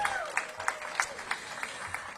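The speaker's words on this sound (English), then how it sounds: "Give him a big round of applause." A crowd gathered outdoors at a library ribbon-cutting offers a brief, faint patter of applause, scattered claps heard at a distance over a few seconds.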